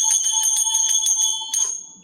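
A village church bell rings in a quick series of bright metallic strikes with long ringing overtones. It is loud and close, with no voices, and one final stroke lingers and fades.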